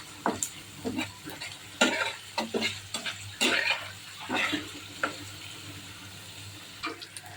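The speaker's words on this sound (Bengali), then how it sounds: "পোলাওয়ার জন্য পেঁয়াজ বেরেস্তা করে নিচ্ছি।" Sliced onions frying in oil for birista to go with pulao, crackling in short bursts as a spatula stirs and scrapes the pan at an uneven rhythm, close and fairly quiet.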